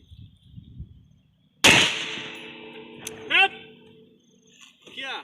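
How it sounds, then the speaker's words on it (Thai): An M4 carbine firing M193 rounds into an expired armor plate at 25 yards, one sharp, loud report with a ringing clang and decaying tail, then a brief metallic ping, with faint voices around it. "M4 คาบาย นะครับในระยะ25 หลา ใส่นะครับ ตรงแผ่นเลย ยิงพร้อมปุ๊บ พร้อมแล้วเริ่มยิง"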